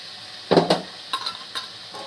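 Nalleru chutney with tamarind and a single tomato being stirred in a pan, a few quick scraping stirs, the first two louder and close, then lighter scrapes with gentle sizzling between.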